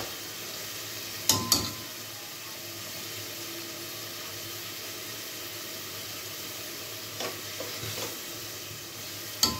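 Herring being turned and stirred in a pan with a steady, close sizzling hiss, broken by a few sharp scraping clacks of the utensil against the pan.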